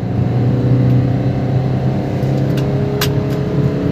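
A Maruti Swift diesel with the 1.3 DDIS engine pulls hard in second gear, a loud, steady, rising engine drone heard up close inside the car.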